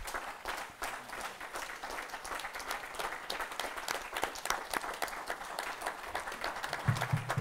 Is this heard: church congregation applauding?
yes